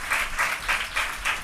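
A church congregation claps together in praise during a Telugu sermon, steady rhythmic applause swelling in four or five pulses with no voices over it.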